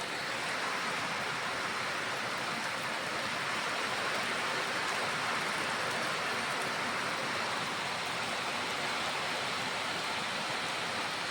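A downpour of heavy rain falls without pause around a farmhouse, an even, hissing wash of water that holds a constant level for the whole stretch, with nobody speaking.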